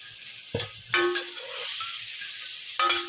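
Chicken pieces fry in hot oil, a soft steady sizzle broken by a few louder bursts as pieces are moved or stirred in the pan, close up with no voices.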